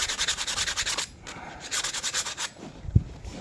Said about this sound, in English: So by giving them a good rub around the edges,